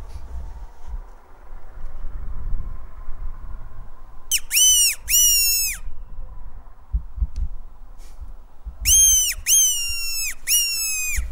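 Two bursts of a high, wailing predator call used to lure a fox, a squealing series of cries repeated, over low wind rumble and a few thumps, outdoors in snow.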